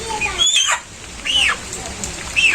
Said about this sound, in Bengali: পোলট্রি ফার্ম থেকে এই যে পোলট্রি মোরগ নিয়ে এলো